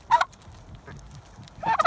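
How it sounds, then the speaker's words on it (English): A turkey gobbles twice nearby, short rattling bursts at the start and end with quiet background between them. "Big fat turkey."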